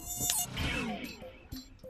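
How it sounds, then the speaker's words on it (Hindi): A mosquito buzzes close by in a thin, whining drone that swells and fades as it moves. Faint knocks and rustles sit underneath the whine. "मैं तो इस मच्छर की बात कर रहा था।"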